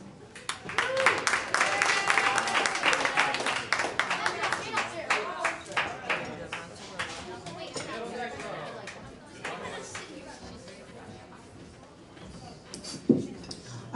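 Audience at a pub rock concert claps and cheers, loud at first and then thinning into scattered claps and crowd chatter, with a brief sharp sound near the end.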